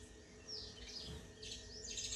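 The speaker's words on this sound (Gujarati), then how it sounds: "જો તાર બાજુ ચકલી આવી" Sparrow chirps from a farm household setting, a few bright high tweets in short bursts over steady background noise, moderately near.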